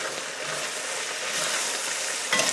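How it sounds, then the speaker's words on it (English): Soy sauce being stirred into a frying home-cooked dinner dish, a steady close sizzle with soft spoon scraping that swells briefly near the end. "Then you're going to add about 3 tablespoons of soy sauce. 1, 2, 3, and give that a quick stir."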